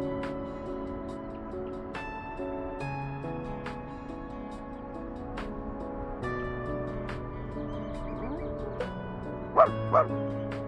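A puppy yips, barks and whimpers in short repeated bursts, with high whines rising and falling and a couple of louder yelps near the end, fairly close against a quiet background.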